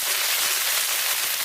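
Whole cumin seeds crackle and spit in hot oil for a Bengali country-chicken curry with potato and papaya, a dense, steady sizzle close up with no breaks.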